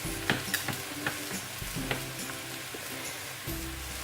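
Food cooking in a pot being stirred, with spoon knocks and scrapes over a soft continuous sizzle, close and moderately loud, without talk.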